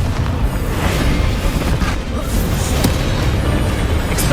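A Confringo blasting spell in Hogwarts Legacy sets off a loud, rumbling explosion that carries on as a dense, booming roar for several seconds, with no talk.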